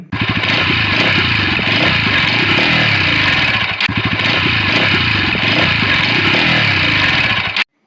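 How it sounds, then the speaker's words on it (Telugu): A 2024 Bajaj Pulsar NS200 motorcycle starts and runs steadily at a close, loud idle with a throbbing, rattly exhaust note, a short break in the middle, then cuts off abruptly. "ఇంక ఈ బైక్ అనేది స్టార్ట్ చేసేది చూద్దాము సౌండ్ ఎలా ఉందనేసి"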